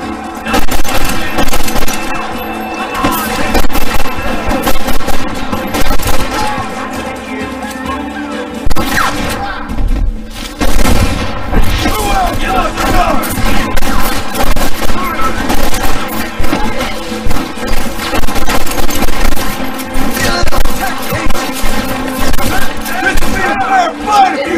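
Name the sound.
gunfire in a shootout in Red Dead Redemption (video game)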